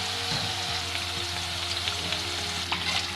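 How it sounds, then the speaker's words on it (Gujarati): Ratalu (purple yam) puris fry in hot oil on a low flame, giving a continuous close-up sizzle and bubbling with faint crackles and no voices. "બીજી વખત પણ પડી ગયા છે બધા તો એને પણ ધીમે તાપે તળાવવા દઈશું."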